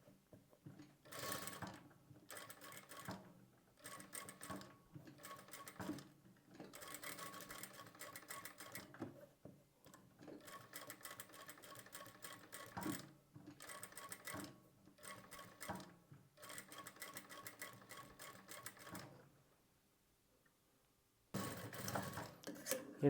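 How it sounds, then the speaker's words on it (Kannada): A sewing machine stitches a blouse lining a quarter inch from the edge, running slowly in repeated bursts of rapid mechanical clatter separated by brief pauses, close and clear, with no talking. "ಇದು ತುಂಬ ನಿಧಾನವಾಗಿ ನೀವು ಈ ರೀತಿ ಸ್ಟಿಚ್ ಮಾಡ್ಕೊಳ್ಬೇಕು."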